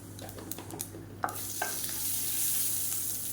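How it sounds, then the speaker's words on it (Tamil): Mustard seeds and urad dal crackling and sizzling in hot oil in a pan, with a few sharp pops early and then a steady, close frying hiss that builds over a few seconds. "எண்ணெய் நல்லா சூடாயிருச்சு. ஒரு டீஸ்பூன் கடுகு உளுந்து சேர்த்துக்கலாம்."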